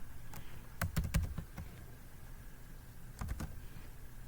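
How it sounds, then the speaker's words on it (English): Keys clack on a computer keyboard in two short bursts, a quick run of taps early on and a brief cluster near the end, close and fairly quiet with a pause between. "we type in that expression"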